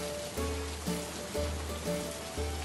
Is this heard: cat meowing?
no